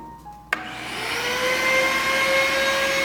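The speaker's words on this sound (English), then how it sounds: "Let's get that vacuum going on to clean up the rest of this." A sharp click, then a vacuum cleaner motor whirs up and runs steadily with a rising whine, loud and close, cleaning up during a Porsche 996 bumper removal.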